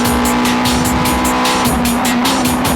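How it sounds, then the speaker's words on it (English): Toyota Supra GT race cars in a JGTC braking battle, engines roaring loud and close with a steady tone while tires squeal under heavy braking, continuous throughout with no talk. "Here's a braking battle."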